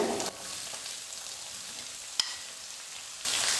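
Two large finely chopped onions frying in a pan, a steady soft sizzle that runs unbroken with a faint stir or tap partway through, close and fairly quiet.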